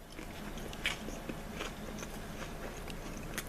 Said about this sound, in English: That bread is crunchy.